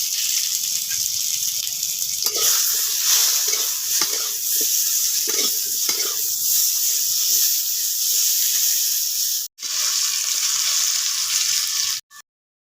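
Potatoes fry in hot oil with turmeric and salt, giving a loud, steady sizzle and hiss broken by several scraping stirs, with two abrupt cuts near the end.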